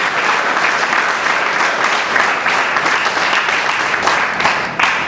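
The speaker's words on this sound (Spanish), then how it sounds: "Denle un aplauso al Señor en esta mañana" A church congregation on a morning service bursts into sustained applause, many hands clapping together in a loud, even roar that carries on throughout.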